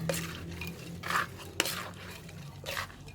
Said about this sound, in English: At this time we will not pound it, we just stir.